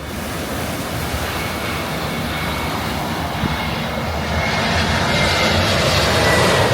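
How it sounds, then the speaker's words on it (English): Airplane flying low over Maho Beach, St Maarten, a loud broad jet roar that swells steadily over rolling surf and wind, with no talk during it. "So we were just interrupted by the plane flying over."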